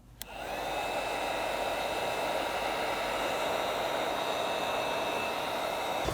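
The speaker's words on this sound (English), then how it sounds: "So just apply heat and hold it in place to help it secure to this small section here." A heat gun blows a steady, loud, even whoosh of air onto headlight tint film on a Kia EV, starting abruptly after a brief quiet moment and holding constant to the end.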